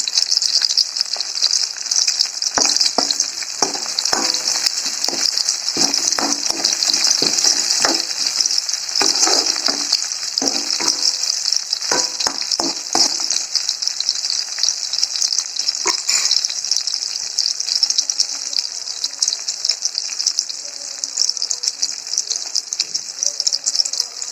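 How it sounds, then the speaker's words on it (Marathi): Green chillies frying in a pan give a loud, continuous, hissing sizzle that lasts throughout, with occasional crackles and stirring scrapes close up, and no voices. "मिरची टाकायची आणि परत ब्राऊन होऊन ठेवायचं."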